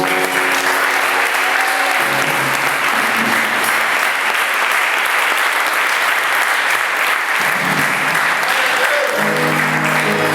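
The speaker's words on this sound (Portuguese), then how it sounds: "Uma salva de palmas ao Senhor." A church congregation bursts into loud, sustained applause, dense clapping that fills the space for about ten seconds, with a faint voice and organ-like tones underneath.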